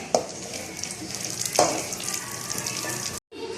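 Chopped almonds roast in ghee in a pan, a close, steady frying hiss broken by a few sharp stirring clicks before a brief cut.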